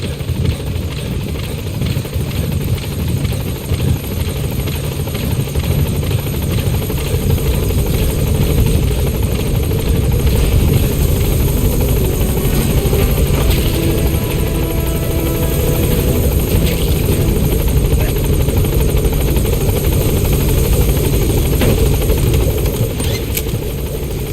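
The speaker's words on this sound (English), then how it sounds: "Support helicopter has arrived." Support helicopter in Metal Gear Solid V, a loud, close, continuous rotor thrum and engine drone holding steady for the whole span, with no voices.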